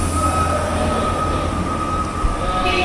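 An Amtrak Coast Starlight passenger train rolls through a massive tunnel with a steady, loud rumble and a thin sustained tone riding over the rail noise.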